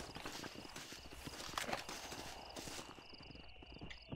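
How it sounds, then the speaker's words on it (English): Horse hooves clip-clopping in Red Dead Redemption, a steady rhythmic trot of sharp hoof strikes over open-air game ambience, moderately close and fairly quiet, with no talk. "That's a horse."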